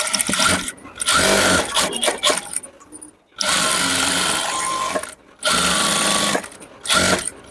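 Sewing machine stitching a chudidar top, running in loud bursts of rapid mechanical whirring separated by short pauses, close up with no talk.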